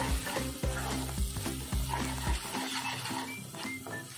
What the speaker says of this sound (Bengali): দিয়ে ফ্লেমটা একটু হাই করে দিয়ে আরও 2-5 মিনিট একটু মশলাটা ভেজে নেবো